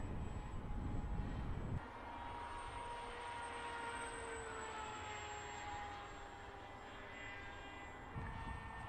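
Electric motor of a Teksumo RC flying-wing plane at about half throttle, a steady high-pitched whine with slowly shifting tones, heard from a distance over wind noise, with a brief gust of wind buffeting at the start and end.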